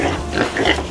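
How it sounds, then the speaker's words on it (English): A pig oinks in a close, loud burst of grunting snorts lasting under a second, heard alone. "This is a pig."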